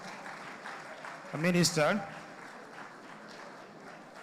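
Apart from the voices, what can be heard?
audience applause at a conference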